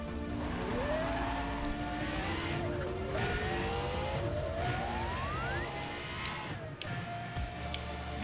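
Pagani Zonda F in NFS World, cornering with a sustained engine roar and a rising whine as it accelerates, with tire squeal layered through the turn, loud and continuous.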